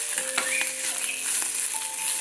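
Drumstick leaves are dry-roasted in a pan and stirred continuously, a steady close scraping and rustling with a faint sizzle that keeps going evenly with no talking.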